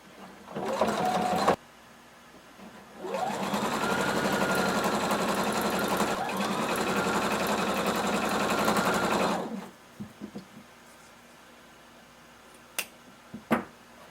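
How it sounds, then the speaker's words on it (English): A sewing machine stitching along the top edge of fringe on a kimono, first a brief burst, then a long steady run of fast rhythmic stitching, close and loud, ending with a few small handling clicks. "we're going to sew along the very top edge of our fringe"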